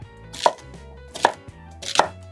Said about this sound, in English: I'm going to cut these ends off.